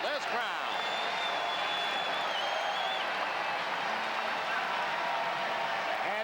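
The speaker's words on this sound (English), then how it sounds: "And listen to this crowd." A hockey arena crowd roars in a sustained, dense wall of cheering after the Los Angeles Kings win Game 7 of a 1989 playoff series against the Oilers, steady and loud throughout.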